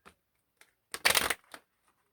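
Healing Yourself oracle reading cards shuffled by hand, with a few soft flicks followed by one louder riffling burst and a final short flutter, close and otherwise quiet.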